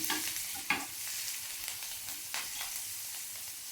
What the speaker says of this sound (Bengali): এখন পেঁয়াজ দিলাম, পুড়ে না যেন যেন বেরেস্তার মতন হয় আর কি।